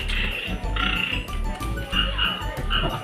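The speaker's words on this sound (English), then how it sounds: "We then found a funny frog machine" A novelty frog machine at an attraction in Taipei gives out loud, repeated croaking bursts in a quick irregular rhythm, close and alone without voices.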